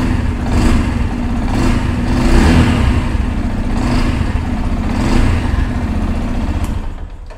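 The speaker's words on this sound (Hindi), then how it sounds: "सो कुछ इस टाइप से एग्जॉस्ट नोट यहाँ पर आप लोगों को मिल जाने वाला है" Yamaha FZS V3 motorcycle, 2024 model, with its engine running and exhaust note rising and falling through several revs, loud and close, with no talking.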